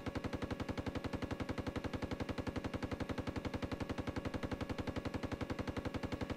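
Tank coaxial machine gun in the Steel Beasts Pro game firing one long unbroken burst of rapid, evenly spaced shots, steady and fairly quiet throughout.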